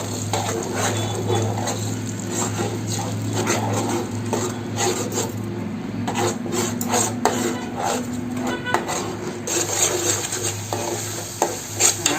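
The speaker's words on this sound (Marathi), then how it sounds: "मी मिरची आणि आहे ते मी आता हे टाकणार आहे आणि छान परतणार आहे तेलामध्ये" Green chillies and curry leaves fry in oil in a pan for a Malvani-style surmai fish curry, a continuous close sizzle broken by scraping stir strokes, with no voices.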